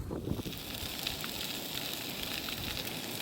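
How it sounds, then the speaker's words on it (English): Bacon crackling and sizzling in a pan on a cheap Chinese camping stove on a windy hillside, a steady, fairly quiet hiss with dense fine crackles, wind noise underneath. "The only thing better than birdsong in the morning is the sound of bacon grill crackling."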